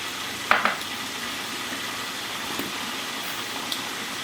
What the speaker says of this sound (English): and so now we're gonna add 2 cups of rice